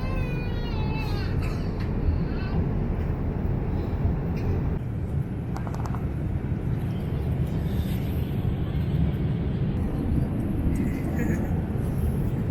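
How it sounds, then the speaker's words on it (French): Cabin drone of an airplane on a flight home from Bolivia to France, a constant low roar under brief bits of conversation. "C'est le dernier avion pour rentrer en France."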